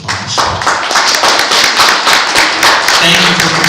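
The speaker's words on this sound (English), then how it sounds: "I want to give Ishmiel a nice round of applause." A small group applauds a speaker at a session about encouraging young girls, with close, loud hand claps in a busy patter and a few voices mixed in.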